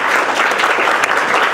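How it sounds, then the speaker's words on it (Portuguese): A seminar audience bursts into loud, dense applause for the Escola do Legislativo, a close, continuous roar of many hands clapping at once. "uma salva de palmas para a Escola do Legislativo"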